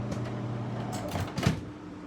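A microwave oven is stopped and its door opened, heard as a couple of soft mechanical clunks and a latch click close by over a faint hum.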